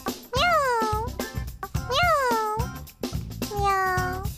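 Three loud, close cat meows, each a rising then falling drawn-out cry with short pauses between, used as a replacement sound effect in the Plants vs Zombies video game.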